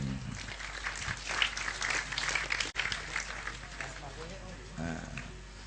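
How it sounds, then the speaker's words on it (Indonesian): An audience at an Indonesian religious talk bursts into steady applause, a broad wash of clapping that continues under someone speaking over it. "Tepuk tangan untuk beliau."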